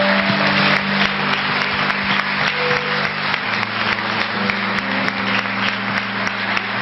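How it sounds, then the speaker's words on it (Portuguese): A church congregation claps in a fast, even rhythm, a dense wash of hands with sharp regular beats over sustained music tones, loud and continuous throughout. "Vamos dar mais uma salva de palmas a Jesus?"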